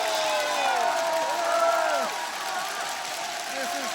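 A huge stadium crowd of around 50,000 at Kim Il-sung Stadium in North Korea roars and cheers with a party atmosphere, a steady dense wash of voices and whoops with shouted calls rising and falling throughout.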